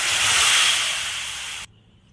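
Water pours into a pan of sugar for cooking syrup, a steady loud hissing splash that fades slightly and stops abruptly near the end, leaving quiet.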